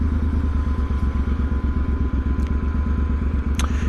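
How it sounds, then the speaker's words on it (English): A motorcycle engine runs steadily up close with a rapid, throbbing exhaust pulse, with a couple of sharp crackling pops from the exhaust while riding around London. "Pops and crackles."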